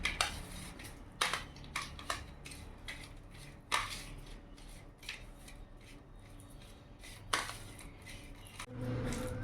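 Catla fish pieces are being rubbed together with salt, turmeric and chili powder in a bowl, giving soft squelching and rubbing sounds broken by sharp clinks against the bowl, faint and close.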